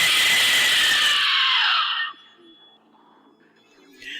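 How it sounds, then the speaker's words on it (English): Aztec death whistle with four chambers, blown in one loud shrill screaming blast of about two seconds that cuts off into near silence, a faint noise returning at the end. "Perfect examples are the Aztec death whistles that I sell through Haunt Dogs."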